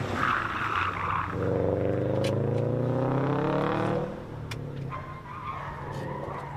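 A 2018 Subaru WRX STI Spec R rally car in 555 livery howls past on a town stage, its engine note rising and sweeping as it nears and then falling away into a lower rumble.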